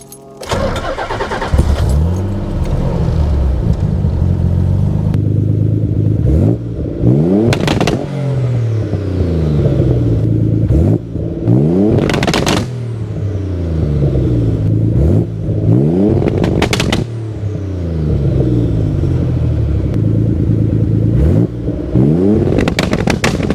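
A 900-horsepower Nissan 300ZX with anti-lag bangs against its rev cut, its engine repeatedly sweeping up and snapping back in loud, crackling bursts, with no one speaking.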